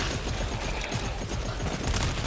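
Distant automatic gunfire in the video game GTFO, a steady stream of muffled rapid shots rattling far off with no one talking.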